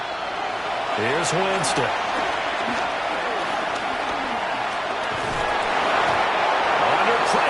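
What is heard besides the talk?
crowd noise rising in the NFL Madden 26 video game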